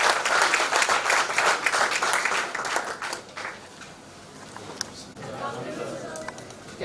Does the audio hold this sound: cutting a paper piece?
no